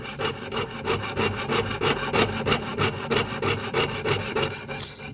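A hand saw cuts through wood with its blade lubricated by wax, making steady rhythmic rasping strokes of about four per second, close and continuous, with no one talking.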